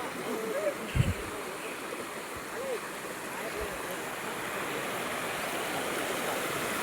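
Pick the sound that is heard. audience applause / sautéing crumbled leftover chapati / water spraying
water spraying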